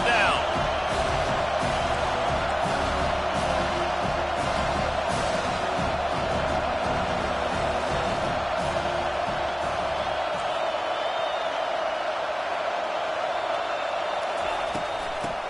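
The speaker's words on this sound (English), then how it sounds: "Decibels rising as the crowd gets behind this defense on third down." A stadium crowd at a football game roars in a sustained, dense wall of noise on a third-down defensive play, loud and continuous with occasional sharp peaks and an announcer talking over it.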